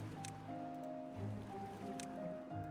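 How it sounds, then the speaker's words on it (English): Water pumps running in the Timberborn video game, a steady mechanical hum with layered tones over sloshing, gurgling water, continuous and fairly quiet, with no talking. "I can turn on our water pumps over here."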